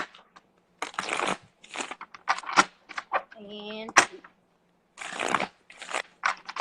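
Tarot cards being shuffled in a few quick riffling bursts with sharp card clacks, close by, mixed with a speaking voice between shuffles.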